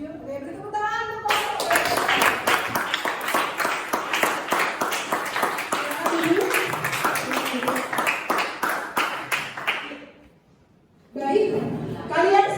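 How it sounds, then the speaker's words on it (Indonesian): A classroom group claps for several seconds in a dense, sustained burst of applause, then it stops briefly before voices resume. "beri tepuk tangan untuk"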